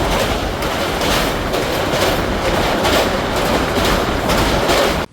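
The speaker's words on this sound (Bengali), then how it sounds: "এই হচ্ছে আজকে আমাদের সারথি পুরী থেকে শিয়ালদা দুরন্ত এক্সপ্রেস" The Puri–Sealdah Duronto Express running at speed, a loud continuous rumble with rhythmic wheel clatter heard from on board, cutting off abruptly at the end.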